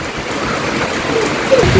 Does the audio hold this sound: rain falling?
yes